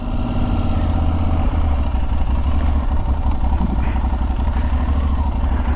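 Aprilia Tuareg 660 motorcycle pulling away from a stop in a full-lock turn on a parking lot, its engine rumbling steadily and close at low revs with a faint mechanical clatter.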